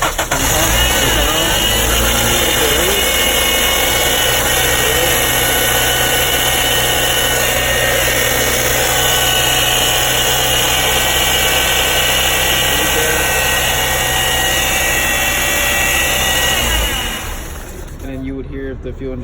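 A car engine idles and runs steadily for the whole stretch, with fuel injectors ticking on and off under a continuous mechanical hum before it drops away near the end.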